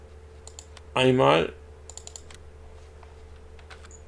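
Sparse, faint mouse clicks tick intermittently during Landwirtschafts-Simulator 19 gameplay, small sharp taps scattered around a short spoken German word over a quiet background hum.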